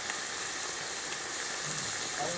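Mutton fries in a pot over a wood stove with cinnamon and cloves added. It gives a steady, close, bright sizzle with a soft stir near the end.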